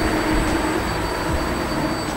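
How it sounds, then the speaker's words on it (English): Loud, steady machinery roar inside the engine room of the 130-million-dollar megayacht Laurel, a dense continuous drone with no breaks, heard close up and alone. "So here we have the engine room."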